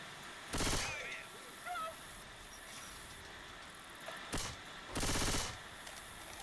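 Gunfire in the Left 4 Dead 2 zombie shooter at a dark carnival fairground, with two short bursts of shots over a faint background of game ambience and distant effects.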